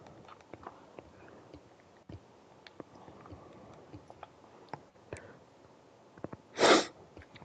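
One sharp, loud sneeze bursts out near the end, after several seconds of faint ticks and small household noises.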